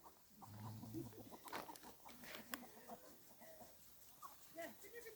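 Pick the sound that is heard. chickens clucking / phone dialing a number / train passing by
chickens clucking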